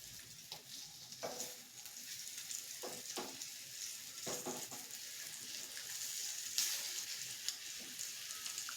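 Paneer pieces frying in a pan after being flipped, giving a steady close sizzle with scattered soft scrapes and taps of a spatula, no voices.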